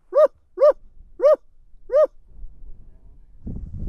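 A man imitates coyote barks with his voice, four sharp yelping barks evenly spaced and loud, then low rustling and wind noise outdoors in the badlands during breeding season.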